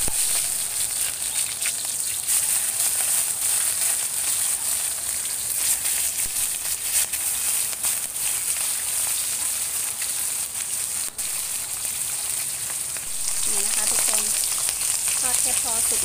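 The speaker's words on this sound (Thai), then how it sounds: "พอสุกนะคะไม่ทอดนานเดี๋ยวเขาจะเหนียวค่ะ" Turmeric leaves fry in a hot pan with a steady, dense sizzle that goes on throughout, with a few faint stirring scrapes near the end.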